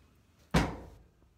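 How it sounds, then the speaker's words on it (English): A door closing in a padded studio room, one single thud near the middle with a short fading tail, close and fairly soft. "If I close this door"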